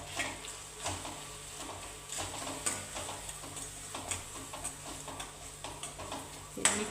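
A spoon stirs spiced masala with salt, turmeric and chilli paste in a pan, soft rhythmic scrapes and clinks over a faint low sizzle, close and quiet with no talking.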